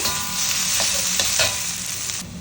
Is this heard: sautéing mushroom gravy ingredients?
yes